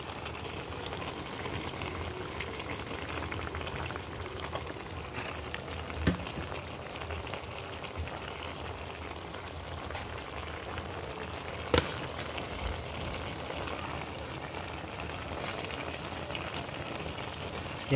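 Ginataang galunggong simmering after a splash of vinegar, a steady bubbling sizzle with soft popping that holds evenly throughout, close and moderately loud, with no talking.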